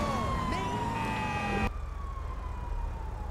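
Grand Theft Auto V police car siren wailing over engine drone, cutting off abruptly partway through, leaving a fainter lingering siren tone and low rumble.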